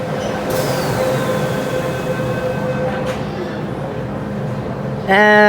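A crowded subway train rumbles steadily with a hum and rattling, a brief squeal of wheels near the end as the ride continues, around Sham Shui Po Station.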